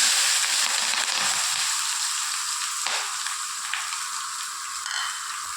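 Onions and green chilies fry in hot oil right after mustard seeds have popped, while a bottle gourd stir-fry is being made, giving a steady, close, hissing sizzle with a few faint crackles and no voices.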